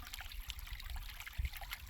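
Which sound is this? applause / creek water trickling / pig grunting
creek water trickling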